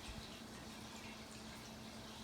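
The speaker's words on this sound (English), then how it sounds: "and that's just pour my milk" Milk poured into self-rising flour for homemade biscuits, a soft steady liquid pour heard close up, continuous and fairly quiet over its whole length.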